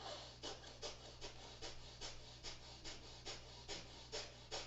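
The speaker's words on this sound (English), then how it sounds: "Rapid in and out, just like you're panting, but with the mouth closed." Rapid bellows breathing through the nose with the mouth closed during a yoga flow, a quick even run of about a dozen sharp huffing breaths, close and fairly soft.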